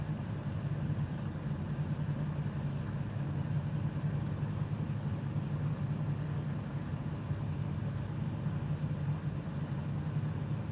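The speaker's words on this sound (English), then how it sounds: "that motor is a 60 series. It has a distinct sound" A Series 60 diesel truck engine idles with a steady low rumble and droning hum, constant and unvarying, heard at moderate distance with no talk.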